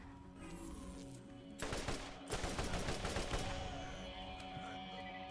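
An explosive-shot turret firing in the video game Borderlands, a rapid burst of loud cracking shots with dense blasts in the middle, fading into a rumbling tail.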